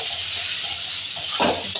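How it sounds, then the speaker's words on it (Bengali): Fish curry sizzles and fries in a wok, a steady close hiss that keeps going while a utensil stirs and scrapes through it near the end. "ভাজা হতে থাক।"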